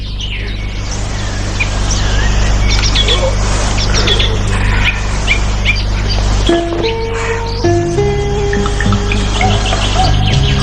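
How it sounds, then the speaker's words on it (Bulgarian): Morning birdsong outdoors under an open sky, with several birds chirping and trilling continuously over a steady insect drone, some clear whistled tones rising toward the end. "събуждането от песента на птичките"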